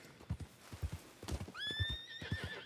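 A horse whinnies loudly in a rising, wavering cry over steady clip-clopping hooves, all near and clear, in the game RedM.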